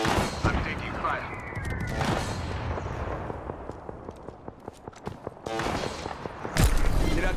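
Gunfire in Apex Legends crackles in close, loud bursts, then turns into a rhythmic stream of rapid single shots, with another heavy blast near the end and voices talking over the action.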